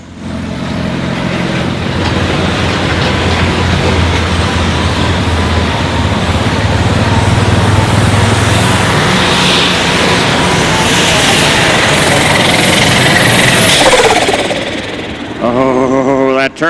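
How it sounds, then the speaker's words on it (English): A light super stock pulling tractor with a roaring turbo engine runs at a Missouri State Fair outlaw pull, giving a loud, sustained, close roar that holds steady for most of the run before dropping off near the end. "That turbo was talking."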